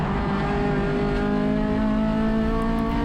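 An Acura RSX race car at Sonoma Raceway accelerates through turn 6, its engine droning loudly and steadily from inside the cabin, with the pitch slowly climbing as it holds speed.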